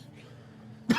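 A voice imitates someone coughing and spitting up water, giving one abrupt, harsh cough after a near-silent stretch of quiet room tone.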